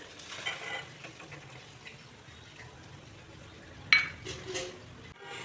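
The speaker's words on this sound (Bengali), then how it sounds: "দেখুন আমি সর্ষের তেল কড়াইতে দিয়ে দিলাম, একটু পরিমাণে বেশিই লাগবে।" Mustard oil heating in a kadai while making urad (maskalai) dal, giving a faint, low sizzle with light clinks of a utensil against the pan and a brief sharper clatter near the end.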